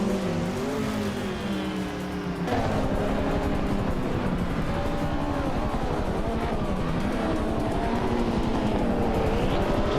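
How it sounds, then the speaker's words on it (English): A 1962 Ferrari 250 GTO race car engine in a racing video game, steady loud engine drone with shifting pitch, thickening into a fuller roar partway through and holding steady alongside other cars. "N Serogai is driving a 1962 Ferrari 250 GTO, a classic and highly coveted race car"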